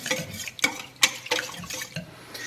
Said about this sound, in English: we'll whisk this together until it's nice and pretty smooth